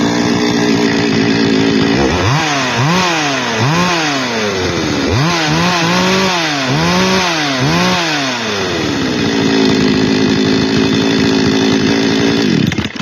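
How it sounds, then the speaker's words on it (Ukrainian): Petrol chainsaw running close and loud, idling steadily and then revved repeatedly in rising and falling surges before settling back to a steady drone. "В принципі, нормальна робота бензопили."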